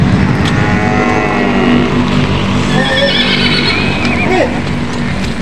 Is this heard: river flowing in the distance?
no